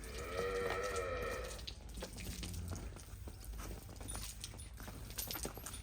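A water buffalo on a farm gives a loud, close, drawn-out low moo lasting over a second, followed by quieter shuffling, dripping and farmyard clatter.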